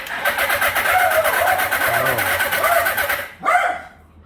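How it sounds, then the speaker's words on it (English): A 1983 Suzuki Katana GS650G motorcycle under restoration is cranked by its starter, giving a loud, rapid, even churning for about three seconds before it cuts off, then a brief squeak. "Let's see if we get a wind."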